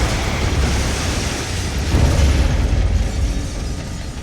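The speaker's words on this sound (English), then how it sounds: "The explosion that kills Robinson's wife was pretty good as well" A dense, rumbling explosion from the film Dolan's Cadillac roars continuously, with a heavier low swell midway and a sustained wash of debris-like noise throughout.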